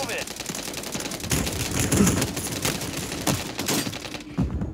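Close air support gunfire in Warzone 3, dense rapid bursts of automatic fire crackling at moderate volume with a faint game voice underneath, cutting off near the end.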